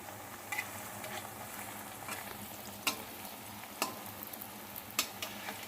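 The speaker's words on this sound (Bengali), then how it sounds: "সবগুলো কোপ্তাকে ভেজে নেব" Quiet, steady sizzle of jackfruit koftas frying in oil, punctuated by several sharp taps and scrapes of a utensil against the pan.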